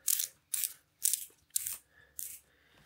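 Fastening being tightened on Cade safety shoes: five evenly spaced bursts of ratcheting clicks, close and fairly quiet, with brief silences between them.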